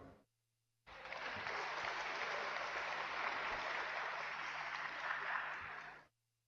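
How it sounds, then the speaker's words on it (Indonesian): A crowd at a professorial inauguration address at UIN Alauddin Makassar breaks into steady applause after a brief pause, clapping evenly for about five seconds before stopping abruptly. "ya tepuk tangan dulu"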